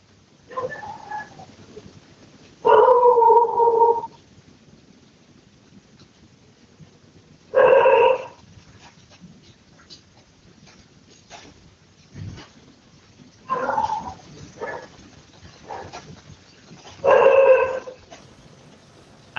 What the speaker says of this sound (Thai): เพื่อนบ้านที่เลี้ยงหมาอยู่สองข้าง ก็ยังคงเห่าเหมือนเดิม เห่าทั้งกลางวันเห่าทั้งกลางคืนแบบนี้ฮะ